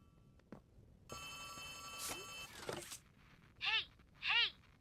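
A telephone rings in the horror video game Poppy Playtime Chapter 3, two sharp trilling rings close together near the end, after a stretch of steady electronic tones and clatter.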